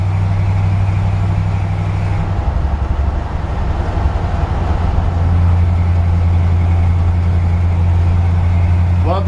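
A 1956 Ford F100 classic pickup runs with its engine and exhaust rumbling steadily and loud throughout, a deep low hum that drops slightly in pitch partway through, as if the truck is moving or revving gently.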